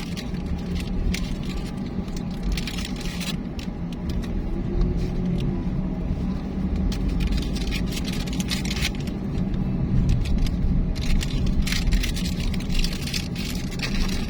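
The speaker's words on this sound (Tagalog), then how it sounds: "Guys, traffic po." Cars pass steadily on a road under construction in Cabiao, Nueva Ecija, Philippines. The traffic gives a continuous close rumble with swelling whooshes as vehicles go by, and no voices.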